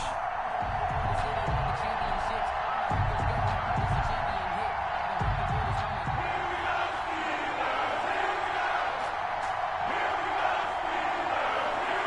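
Stadium crowd at a Cleveland Browns vs Pittsburgh Steelers NFL week 14 game, a constant distant roar of many voices with occasional louder swells, held under a commentator's voice.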